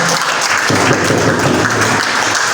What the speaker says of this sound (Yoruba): ẹ ti máa pàtẹ́wọ́ orúkọ náà fún gómìnà ìpínlẹ̀ Ọ̀yọ́